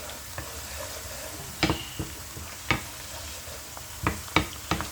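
Pumpkin seeds and meat being stirred in a pan, with a steady low sizzle under scattered scraping and clattering strokes of the spoon, close and moderately loud.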